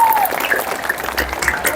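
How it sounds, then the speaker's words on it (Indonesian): Audience applause at a Maulid Nabi school event at SMPN 10 Kotabumi in North Lampung: a short burst of steady clapping from a crowd, filling the whole moment. "Tepuk tangan untuk kita semua."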